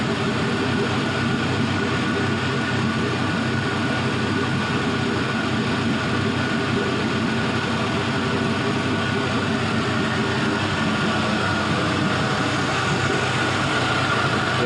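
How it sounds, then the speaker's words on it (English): A steady, loud LS 5.3L V8 engine rumble drones continuously without pause, a deep even exhaust note holding at a constant idle. "The exhaust always sounds so good."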